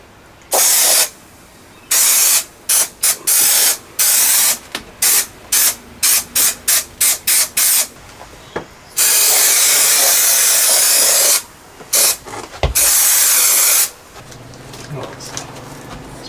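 Repeated bursts of aerosol spray hiss loudly up close while fitting soundproofing sheets in a van, some short and rapid, others long and sustained, with quiet pauses between them.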